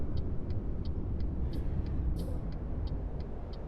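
A truck brakes in American Truck Simulator over a steady low engine rumble, with soft regular clicking and two short airy hisses partway through.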